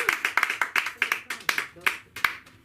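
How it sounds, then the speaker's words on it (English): A small comedy open mic audience in Los Angeles claps in a quick, steady rhythm of sharp, close hand claps that continues through the whole stretch without cheering. "All right, let's keep the applause going."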